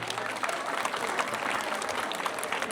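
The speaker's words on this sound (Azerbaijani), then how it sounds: "gürültülü alqışlayırıq." Loud, steady applause from a crowd honoring school graduates at a last-bell ceremony in Azerbaijan, dense clapping filling the whole stretch without letup.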